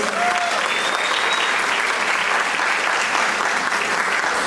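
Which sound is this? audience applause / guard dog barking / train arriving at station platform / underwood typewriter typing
audience applause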